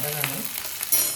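Ginger, onion and chilli fry in a pan with a short burst of bright sizzle. A soft tonal hum sits beneath it for just over a second.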